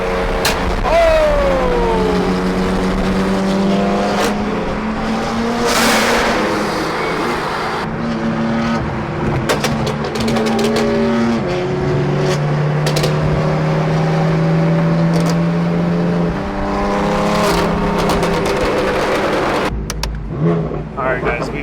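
Cars drive and roll through a busy car meet, engines rumbling and revving continuously with rising and falling pitch as vehicles pass close by, while people talk over the steady traffic noise.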